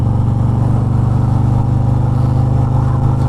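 A 2022 Harley-Davidson Road King with a 113ci engine is ridden, giving a steady, loud, low rumbling drone with an even pulsing throb and no speech.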